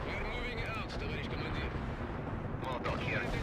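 Artillery strike explosions in the World in Conflict strategy game boom and rumble in a continuous heavy barrage, with radio voices talking over the bombardment.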